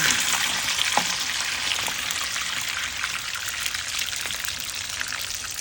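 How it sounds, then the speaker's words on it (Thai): Beaten egg seasoned with salt, sauce and fish sauce sizzles steadily in hot oil for a tofu omelette, a continuous crackling fry with scattered small pops, fairly close and with no talking. "น้ำมันร้อนแล้วราดไข่ลงไปเลย"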